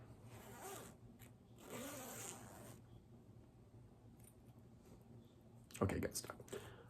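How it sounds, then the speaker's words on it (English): A high quality clothing zipper is zipped in several short, close raspy pulls, with a sharper burst near the end as it catches, and a faint voice nearby. "Actually, another reason was for just this high quality zipper."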